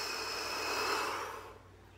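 A steady, breathy exhale through the mouth during a morning breathing exercise outdoors, close and soft, lasting about a second and a half before fading to quiet.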